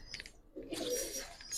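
Giribaz pigeons, a silver Palla-line breed kept by a fancier, give low soft coos in a short close burst, mixed with faint rustling and brief background noise.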